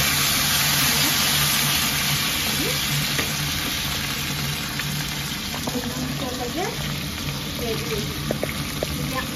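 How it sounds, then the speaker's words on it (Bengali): Potatoes fry in hot oil in a kadai that was just used for sautéing a fish head, giving a steady, dense sizzle from start to finish with a few faint clinks over it. "এই তেলের মধ্যে আমি আলুটা ভাজা করে দিলাম"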